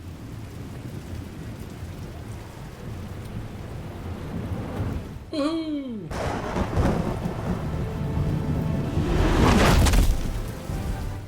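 Steady rain patters in a Batman adventure game while a thunderclap cracks and rolls into a long rumble midway, followed by another swelling roll of thunder; a person briefly whoops in excitement over the storm.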